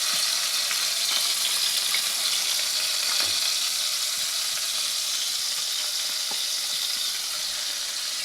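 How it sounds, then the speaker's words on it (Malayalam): Fresh fish frying in a pan, a continuous loud sizzle and crackle with scattered pops and faint stirring scrapes throughout, no one speaking. "അപ്പം ഫ്രൈ ആവാൻ കുറച്ച് മിനിറ്റ് മാത്രം"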